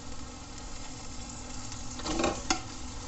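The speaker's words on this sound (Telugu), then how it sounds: "ఇప్పుడు ఇది బాగా గుజ్జుగా ఆయిల్ స్ప్లిట్ అయ్యేంత వరకు కొంచెం బాగా ఫ్రై చేసుకుంటాం." Tomatoes fry in hot oil with ginger garlic paste and curry leaves for a village-style crab masala, a steady close sizzle with a brief scrape of stirring near the end, no voices.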